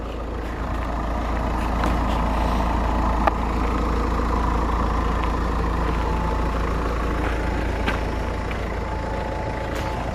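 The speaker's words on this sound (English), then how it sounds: "So engine's running." A 2007 Volkswagen Eos 2.0 TDI diesel idling outdoors, a steady low clattering rumble that holds evenly throughout with a few faint clicks, no talk.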